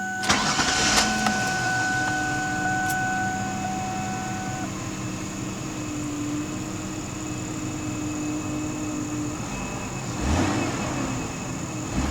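A 2003 Ford Taurus SE engine cranks and catches, then settles into a steady idle with a faint high whine, followed by a couple of short revs near the end.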